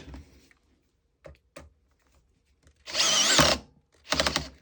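Makita 12V driver set to clutch setting 8 driving a screw: a few faint clicks, then a loud whirring burst of about half a second, a short gap, and a second brief burst as the clutch slips.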